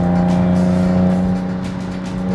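A BMW M car's engine hums steadily and loudly with a strong droning note, holding near and even for a couple of seconds without any voices.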